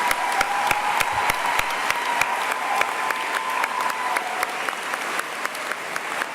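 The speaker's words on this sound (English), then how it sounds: "So can you give them a round of applause, please?" Audience applause at a University of Bolton graduation ceremony, a steady wash of many hands clapping close by, sustained and even throughout with no voices.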